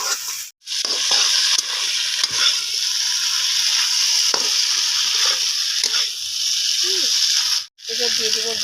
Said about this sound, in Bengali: আলু আর মশলাকে আমি অনেকক্ষণ ধরে কষিয়ে নিয়েছি।